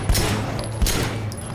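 Gunfire in the video game Year of the Snake, two sharp heavy shots about three-quarters of a second apart over a dense, loud battle rumble.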